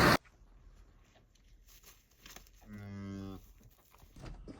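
A cow on a ranch lets out a single clear moo in the middle of an otherwise quiet outdoor scene, with a few faint knocks before it.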